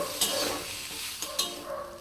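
Potatoes and drumsticks fry together in a pan while being stirred, a moderate sizzling hiss broken by scraping spatula strokes and a couple of sharp clacks, close and without voices.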